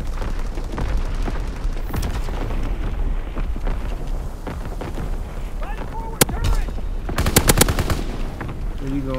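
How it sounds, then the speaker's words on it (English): Call of Duty WW2 battlefield gunfire: rapid bursts and repeated booms of artillery and machine guns over a continuous din, with a sharp crack and a closing volley of shots, loud and dense. "Firing division artillery."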